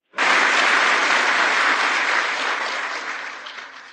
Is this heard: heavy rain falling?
no